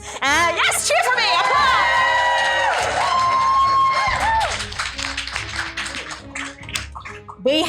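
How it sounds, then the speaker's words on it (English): A crowd at a convention event, BIG BAD CON 2023, cheers and whoops loudly with high shouts and whistles, then the noise breaks into scattered clapping and chatter. "Yes, cheer for me."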